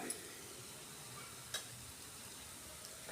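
Spices sauté in a pan for a capsicum curry, giving off a steady soft sizzle with a couple of light clicks of a spoon against the pan, with no one talking.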